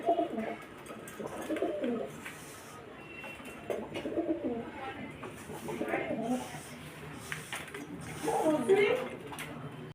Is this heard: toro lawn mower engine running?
no